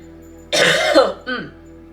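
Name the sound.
coughing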